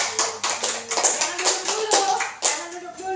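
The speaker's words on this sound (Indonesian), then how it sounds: "Kita beri tepuk tangan ya." A school class claps their hands for a group of classmates, a close, crisp burst of quick, slightly uneven claps that keeps going for a few seconds.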